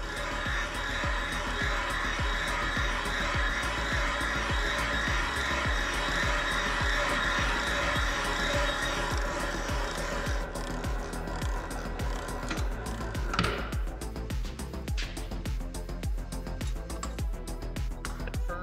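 Valve seat being cut on a 4G63 cylinder head during a valve job, a steady, close grinding and scraping chatter that runs continuously with rapid rhythmic ticks, shifting to sharper, choppier scraping in the final seconds; no talking.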